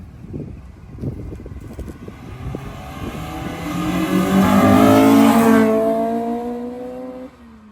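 An Acura Integra LS fitted with a B18C engine and Mugen Twinloop exhaust idles with a few choppy blips, then revs up into a loud, sustained climbing wail before the throttle snaps shut, with no talking.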